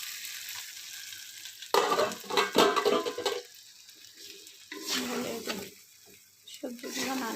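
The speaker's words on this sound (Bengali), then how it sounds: "সবজিগুলো নাড়াচাড়া করে দিতে হবে" Papaya and potato pieces for an egg curry are stirred and fried in masala, bursts of loud sizzling and scraping alternating with quieter stretches of low frying.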